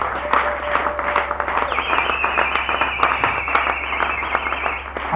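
A church congregation at a Sunday service claps in rhythmic bursts to acclaim Jesus, the sharp repeated claps carrying over sustained keyboard-like tones in a reverberant hall.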